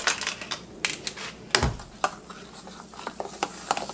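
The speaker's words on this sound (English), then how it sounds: "Let me stir it here." Gingerbread mixture stirred in a pot, a run of quick irregular clicks and taps of a utensil against the pot with one heavier knock, close and without talk.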